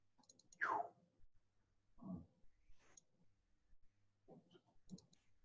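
A computer mouse clicks sharply a few times in a quiet room, the separate clicks spaced apart with faint handling noise between.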